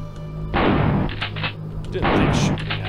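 Two heavy, booming gunshots from the shooter game Killing Time in a sewer area, each loud blast followed by a short rumbling decay, spaced about one and a half seconds apart over a low steady hum.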